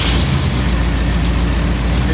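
A 1984 Chevy Blazer engine runs loud and close at a steady rumbling idle, continuous with no breaks.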